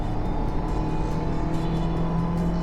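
Steady engine drone of a Honda S2000 rolling onto the Chang International Circuit at a Classic Revival 2022 track day, a continuous loud hum with a constant low rumble and no talk over it.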